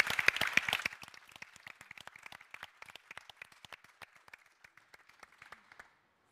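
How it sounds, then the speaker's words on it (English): An audience at an official ceremony in Sweden breaks into applause, a brief loud burst of many hands that thins into scattered individual claps and fades out over a few seconds. "Can you give these people a round of applause?"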